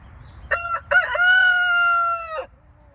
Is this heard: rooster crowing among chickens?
yes